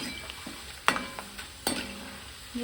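Corn frying for chivda, a low bubbling sizzle punctuated by a couple of sharp clinks of a ladle against the pan, no speech.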